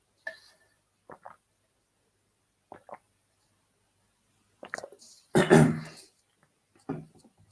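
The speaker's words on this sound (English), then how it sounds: "Bit of coughing fit." A sports commentator in a live tennis stream has a coughing fit: a few short, sparse coughs and throat-clearing sounds, then a louder, rough burst of coughing near the end, close and otherwise quiet.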